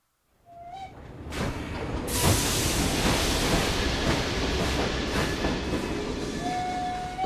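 A steam-era train runs in Assassin's Creed Syndicate, building from silence into a loud, continuous rumbling roar with clattering wheels, a brief whistle tone near the start and another near the end.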